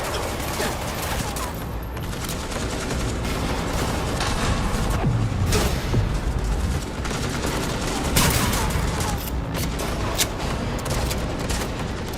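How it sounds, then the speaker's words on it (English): Gunfire with ricocheting bullets from the video game Cyberpunk 2077 forms a dense, loud, continuous barrage of rapid shots and impacts across the whole stretch, with a faint voice now and then beneath it. "This allows players to bounce bullets off walls and hit enemies hiding behind cover."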